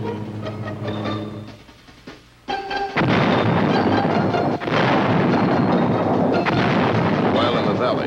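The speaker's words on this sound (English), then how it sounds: "Forward observers pinpointed enemy positions for IV artillery." Vietnam War artillery fire, booming blasts and a heavy, sustained rumble, loud and dense, following a quieter stretch with droning tones.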